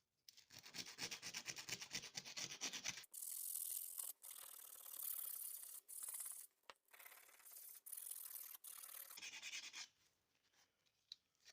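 Knife handle scales and brass hardware scuffed up with sandpaper ahead of epoxy: steady rasping strokes, loud and close, broken into short bursts with brief pauses and no talking.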